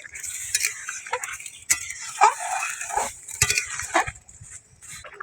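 A vegetable curry of potato and pointed gourd with peanut paste is stirred in a pot, giving scattered metallic scrapes and clinks of a spoon against the vessel with quiet pauses between strokes.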